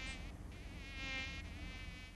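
A high, whining mosquito buzz drones steadily for a couple of seconds as a sound effect in a Spanish-language radio ad, close and clear with no voices over it.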